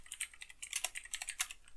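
Quick, uneven keystrokes clatter on a computer keyboard while C# code is typed, close and fairly quiet, with no talking.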